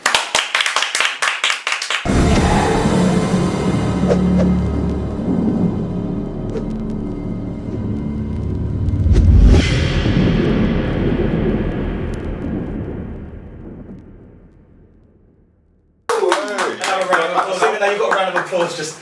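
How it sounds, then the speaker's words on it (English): A live audience gives a sustained round of applause with cheering to welcome a guest, loud and dense for about fourteen seconds before fading out, with a host talking briefly at the start and again at the end. "You got a round of applause just mere seconds ago."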